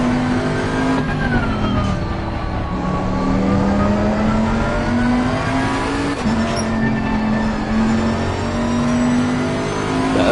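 Race car engine in Assetto Corsa Competizione, droning steadily at high revs with slight pitch rises and dips through corners and shifts, loud and continuous with no talking.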